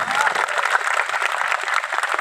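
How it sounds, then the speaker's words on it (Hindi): A seated crowd at a Jan Suraaj rally for Prashant Kishor claps together in a dense, steady wash of applause that holds evenly throughout, with faint voices mixed in. "अब सब लोग एक बार जोरदार ताली बजाइए प्रशांत किशोर जी।"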